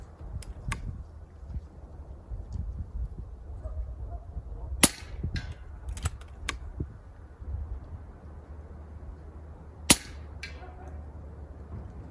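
Three .22 caliber rifle shots firing Varmint Knocker slugs at a chronograph and ballistic gel crack out several seconds apart, sharp and brief over quiet outdoor background noise, each followed by a faint echo.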